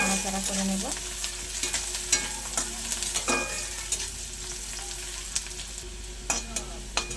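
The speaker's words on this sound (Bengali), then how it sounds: "পেঁয়াজ কুচিটা আমি 4-5 মিনিট মতো একটু নাড়াচাড়া করে নেব।" Chopped onions are stirred and fried in a pan, a continuous soft sizzle with frequent spatula scrapes and knocks against the metal. A hum runs underneath, and a brief tonal sound comes near the start.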